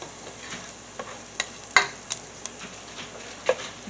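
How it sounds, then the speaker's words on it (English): Meatballs frying in a pan for a low-carb marinara dish, a soft continuous sizzle with scattered sharp pops and crackles, close and moderately quiet, with no voices. "we're letting them sizzle down and cook up a little bit"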